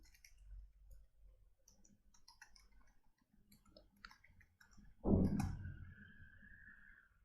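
Light, scattered keyboard clicks as an email address is typed, quiet and irregular for several seconds, followed by a louder, sustained sound near the end.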